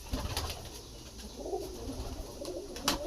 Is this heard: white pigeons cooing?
yes